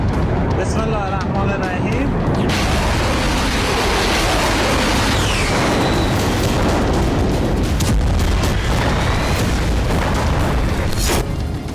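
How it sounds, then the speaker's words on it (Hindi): A loud explosion blast near Tehran, Iran, with a sharp burst followed by a sustained roaring rumble that stays heavy throughout, voices audible beneath. "ईरान की धरती पर हुआ ये वो धमाका है"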